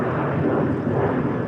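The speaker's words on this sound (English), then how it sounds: "See that plane up there?" An airplane passes overhead outdoors, a steady broad roaring rumble that stays constant and fairly loud throughout, with no talk.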